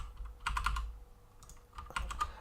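Key presses on a computer keyboard while working in Blender, two quick clusters of close, crisp clicks separated by a short pause, with no talking.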